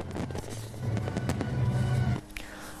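Fireworks bursting at a Tet New Year display in Ho Chi Minh City, a rapid run of crackling pops and bangs over a steady rumble, ending with one sharp burst and a fading echo.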